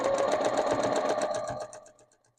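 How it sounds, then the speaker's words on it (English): A sewing machine stitches quilt fabric with a 1/4 inch seam, running in a steady fast mechanical chatter close by, then slowing and stopping near the end. "I'm going to sew those in place."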